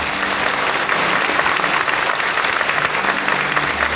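A large congregation applauds at a pastor ordination ceremony where 129 pastors are ordained, a dense, even wash of clapping from many hands that holds steady and loud throughout.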